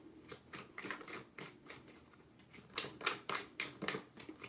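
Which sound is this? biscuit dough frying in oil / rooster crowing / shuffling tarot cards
shuffling tarot cards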